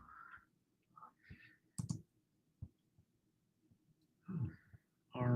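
Keys tapped on a computer keyboard while a home search is entered on a real estate website, a few short clicks and sparse taps in a quiet room, with brief murmurs and breaths between them.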